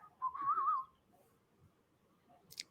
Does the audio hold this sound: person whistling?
yes